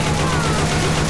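Gunfire in the zombie shooter game Left 4 Dead 2 comes as a dense, loud burst of rapid shots packed into a single second, set against a steady low background hum.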